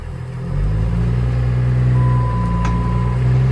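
A truck drives along with a loud, steady engine drone heard from inside the cab, its low rumble rising slightly after the start, with a faint high tone partway through and no talk.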